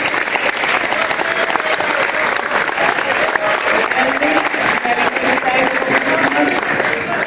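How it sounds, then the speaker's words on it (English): Sustained applause from a crowd, dense clapping that stays loud and even throughout, with a few voices mixed in. "So please give these 41 students a round of applause."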